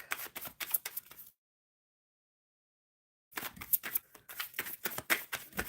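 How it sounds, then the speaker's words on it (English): Tarot cards are shuffled in two bursts of rapid, crisp riffling and slapping, separated by about two seconds of silence, heard close and without talk. "Shuffling for Leah Lee."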